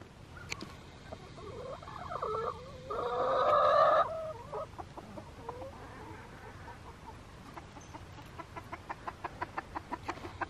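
Chickens in a backyard coop cluck close by in short bursts, with one loud squawking flurry partway through, followed by quieter scattered clucks and a run of rhythmic tapping near the end.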